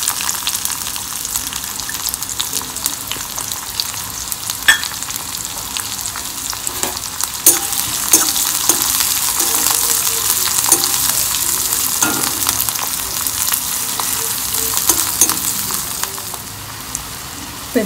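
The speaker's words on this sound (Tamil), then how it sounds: "தாளிச்சுட்டு சோம்பு பொரிஞ்ச உடனே இந்த வெங்காயத்தை பொடி," Onions fry in hot oil with fennel seeds in a pan, a steady close sizzle with occasional stirring scrapes and taps.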